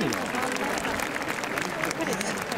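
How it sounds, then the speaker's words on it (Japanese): Applause from a baseball fan-appreciation event crowd voting for pitcher Takanashi, moderately faint and steady, with a voice speaking over it. "最後に高梨選手が良かったと思う方、拍手をお願いします。"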